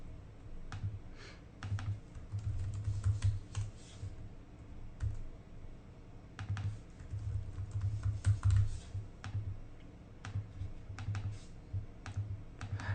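Fingers typing on a computer keyboard while coding, uneven bursts of soft key clicks and taps with short pauses between runs, close and fairly quiet, no speech.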